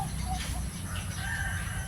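A rooster crows, a chicken noted for an abnormally grown body with a single hip, its call fairly close and steady over a low background rumble, with no talking.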